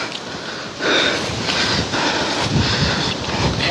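Cold wind gusting across a mountain top, a loud rushing roar buffeting the microphone with surging swells and no voices.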